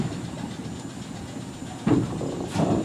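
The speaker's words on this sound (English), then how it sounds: "The car that's pulling up, locomotive number 300" A trolley locomotive rumbles and hisses close by as it rolls in during a museum parade, with steady mechanical noise and a few clunks near the end.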